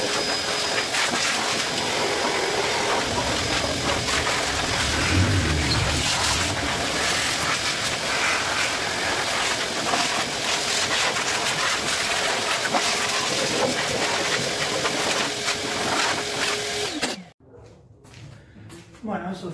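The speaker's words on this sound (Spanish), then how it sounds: "ahora lo que voy a hacer es enchufar la aspiradora y voy a aspirar todo, sacar toda la virulana que quedó dando vuelta" A vacuum cleaner runs steadily and loudly, sucking loose steel wool off a car engine in a workshop, then cuts off abruptly near the end.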